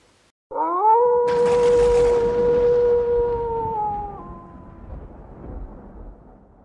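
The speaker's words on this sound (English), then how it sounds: "In the distance, you hear the howl of a beast." A werewolf-style beast howl sound effect rises sharply as a long, sustained tonal cry with a rough noisy burst layered in, holding steady for about three seconds before bending down and fading into a low rumbling tail.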